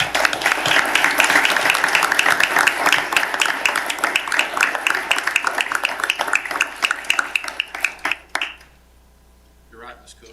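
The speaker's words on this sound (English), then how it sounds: "I'd like to give them a round of applause" A school board meeting audience applauds honored teachers with dense, lively clapping that holds for about eight seconds before trailing off into a few scattered claps and quiet.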